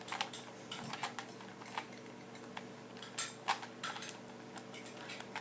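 A Rubik's cube scrambled behind someone's back, quick irregular plastic clicks and clacks of twisting layers in close bursts over quiet room tone.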